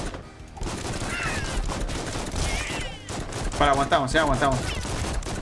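Dual guns fire in the AK-xolotl video game, rapid bursts of pops and crackles running through the whole stretch, while someone talks over the shooting.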